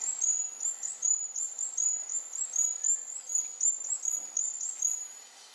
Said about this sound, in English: Fantail, let's listen to that.